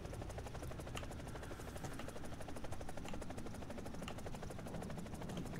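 Eurocopter Tiger (EC-665) attack helicopter rotor in the War Thunder video game, a steady rapid blade chop with turbine whine, loud and continuous throughout.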